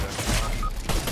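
Burst of gunfire in Fortnite ranked play, a rapid crackle of shots over game noise for about a second, loud and close with a faint voice underneath.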